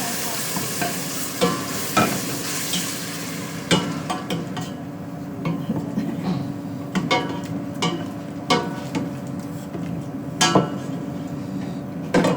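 Tomatoes frying in a pan for spaghetti napolitaine, a steady close sizzle punctuated by repeated scraping and tapping stir strokes, with no one talking.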